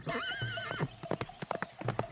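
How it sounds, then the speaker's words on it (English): A farm horse gives a high, wavering neigh, followed by a quick run of sharp, close hoof clip-clops in an uneven rhythm, with no talking. "the horse ran away"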